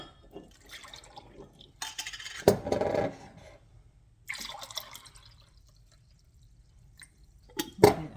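Bone broth being poured into a container, quiet bursts of liquid splashing and filling, with pauses and a few small clinks between them.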